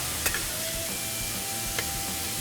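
A torta sizzling on a Lone Star Grillz flat-top skillet, a loud steady hiss of frying that holds throughout, with a couple of brief clicks from the spatula as it is flipped.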